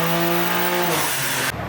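A BMW G87 M2 engine revving hard on a dyno, a loud, close mechanical roar with a steady pitch that drops sharply near the end, with no talking.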